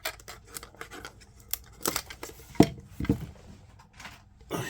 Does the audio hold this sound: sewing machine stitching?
no